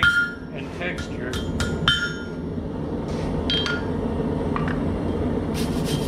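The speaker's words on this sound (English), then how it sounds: "I'll use this ball peen hammer" Ball peen hammer striking a hot forged steel leaf on an anvil, a handful of sharp metallic taps in an irregular rhythm over the first two seconds and a few more later, close and clear above a steady low forge hum.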